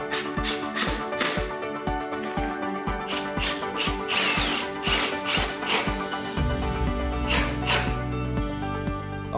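A power drill drives number 8 one-inch screws into the corners of a VX350 moving glass wall frame, with a rapid run of loud, evenly spaced bursts that ends in a longer continuous whir.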